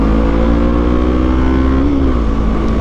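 A 2024 Kawasaki Eliminator fitted with an Akrapovic exhaust runs loud and close, its steady engine drone rising slightly in pitch as revs build, with no voices.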